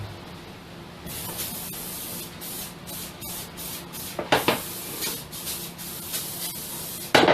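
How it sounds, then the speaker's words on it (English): Olive oil spray hisses from a can into a glass Corningware bread pan in several bursts of varying length, close and fairly loud, with a few short bursts near the end. "An olive oil spray."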